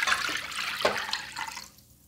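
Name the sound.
water being poured into a bowl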